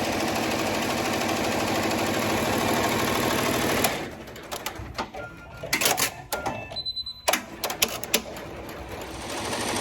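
An embroidery machine stitching out a design at 770 stitches per minute, a dense rapid mechanical chatter that runs steadily, then breaks into stop-start bursts of stitching and clicks.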